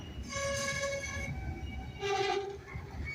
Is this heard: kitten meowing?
no